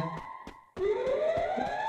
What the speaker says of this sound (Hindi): अबे सायरन किस लिए बज रहा